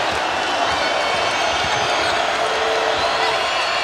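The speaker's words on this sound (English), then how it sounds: "Loudest the crowd has been in quite some time." A packed arena crowd roars and cheers loudly and steadily at an Oklahoma versus Texas Tech college basketball game, a dense, continuous wall of voices with no break.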